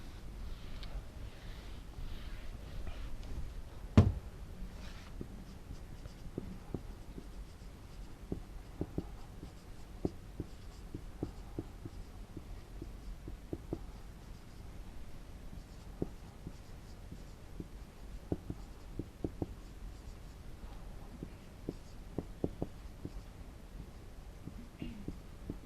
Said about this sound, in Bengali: একটু আমরা ইংরেজিতে লিখছি।